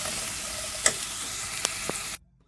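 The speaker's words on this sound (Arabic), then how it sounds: "بس نقلب البصله لغايه ما تدبل" Onion for Egyptian grandmother-style eggah frying in a little oil and stirred in a pan: a close, steady sizzle with a few sharp spoon clinks, cutting off abruptly to silence near the end.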